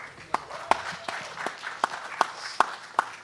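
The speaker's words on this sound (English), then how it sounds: "round of applause." Applause greets a former heavyweight boxing champion: a short burst of scattered, separate claps from a small audience, fairly faint and spaced out over a soft background murmur.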